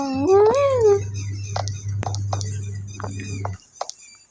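A cat lets out a single meow near the start, followed by scattered clicks and taps over a steady low hum.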